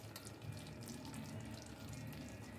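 Tap water running into a sink in a home kitchen while rinsing during cooking of doi aloo, a continuous splashing stream, quiet and close, with no voices.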